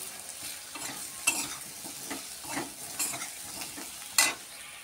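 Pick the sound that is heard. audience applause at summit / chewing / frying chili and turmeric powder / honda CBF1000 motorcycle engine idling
frying chili and turmeric powder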